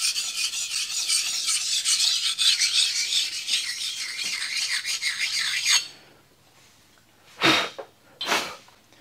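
Rasping, filing-like rubbing as a burr is taken off a machine part during restoration, steady and close for about six seconds, then stopping, followed by two short scraping strokes.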